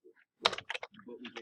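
Quick bursts of keystrokes on a computer keyboard, a short uneven run of clicks tapped close by in a quiet room.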